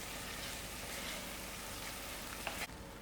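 Hot and spicy chicken livers cook in a pan, giving a steady, dense sizzle and crackle of frying throughout with a brief clink near the end.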